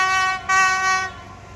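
Thai express train 167 on the Bangkok–Kantang run passes a halt with a steady, loud multi-tone horn blast that swells midway and then fades, with no other sounds.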